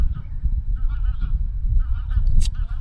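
Geese honk repeatedly at a distance across open Yorkshire Dales hillside, a rhythmic series of nasal calls over steady low wind rumble.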